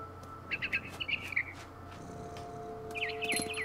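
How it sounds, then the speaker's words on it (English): A barn swallow chirps in the video game What Remains of Edith Finch, giving a few short bursts of quick twittering, soft and nearby, over a faint steady ambient hum, with no speech. "Then I heard chirping outside my window."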